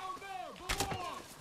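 Gunfire in the video game Far Cry New Dawn: a short burst of several booming shots in quick succession, cutting through steady game music and ambience.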